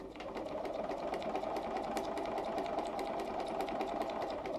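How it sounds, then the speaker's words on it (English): A Bernina 440 sewing machine stitches steadily along a line, a fast, even mechanical whirr with rapid needle ticks running unbroken at close range. "And we're going to sew on that line."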